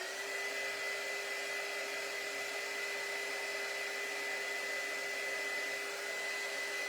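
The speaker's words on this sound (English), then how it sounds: "now I'm gonna bring my heat gun back in for just a second" A heat gun blows steadily and loudly throughout, used on a DIY wooden spring sign, with a constant airy roar and a faint steady whine, no talking.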